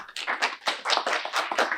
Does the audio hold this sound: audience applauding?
yes